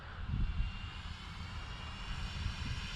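A Freewing A6 Intruder RC jet makes a slow, flaps-down pass, giving a steady, fairly loud whoosh and engine roar that holds level throughout with no talking.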